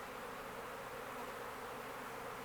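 Honeybees buzz in a dense, steady drone during an opened hive inspection, a continuous close swarm hum that is fairly quiet overall, with no talking.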